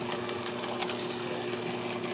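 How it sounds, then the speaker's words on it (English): A stand mixer churns chicken boudin filling, giving a steady, even mechanical whir with a constant motor hum and no breaks. Close and moderately loud, with no voices over it. "We're gonna put this back in the stand mixer and mix it up together"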